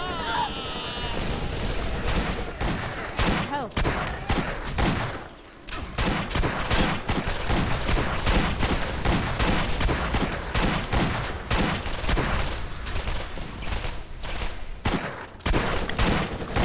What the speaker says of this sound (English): Anti-aircraft shotgun. This is amazing.